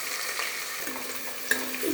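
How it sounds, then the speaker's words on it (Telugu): Cut onions sizzle in about five tablespoons of hot oil, a soft steady frying hiss close by, with a light stir or clink of the pan near the end. "నూనెలో కట్ చేసుకున్న ఉల్లిపాయలు వేసుకోవాలి."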